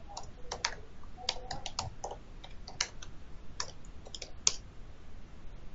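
Quiet typing on a computer keyboard during a software webinar demonstration, scattered light key clicks in uneven bursts over a steady background hiss, no speech.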